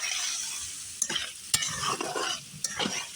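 Potatoes stir-fry in oil with tomato paste, turmeric, chilli and other ground spices, a close sizzle broken by several sharp scrapes and clatters of a spatula against the pan, with no speech.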